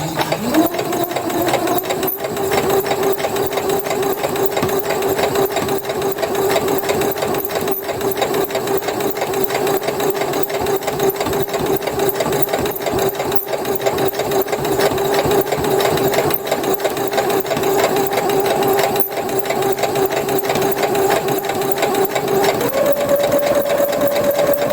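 A sewing machine runs in a long steady stitching burst while sewing a welder's cap, holding an even mechanical whir for most of the stretch before shifting pitch near the end.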